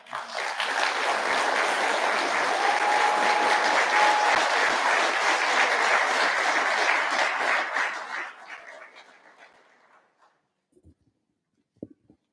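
A crowd at a graduation ceremony applauds loudly and steadily for about eight seconds, then the clapping thins out and fades to a few scattered claps.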